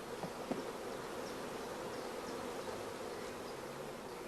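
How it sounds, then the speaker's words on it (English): Honey bees hum steadily as they are brushed off hive frames, a dense continuous drone with a few faint soft scrapes near the start. "All bees are brushed from the other frames"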